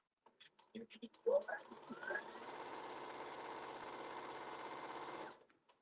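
A sewing machine runs a steady stitch line along a garment pocket during mending, a continuous mechanical whir lasting several seconds after some brief handling clicks, close and moderately loud with no talk.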